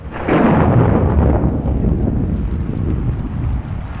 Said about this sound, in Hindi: बारिश भी बहुत जोर से हो रही है